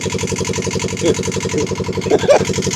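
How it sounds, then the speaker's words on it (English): Marine engine on a wrecked Prout catamaran turning over and catching, a steady, even mid-pitched running rhythm with a few louder bumps near the end. "Oh, we've got an engine."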